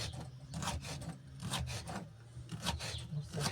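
A knife slices salad vegetables into thin strips for a layered salad, a run of quick, close, rhythmic scraping cuts with no talk.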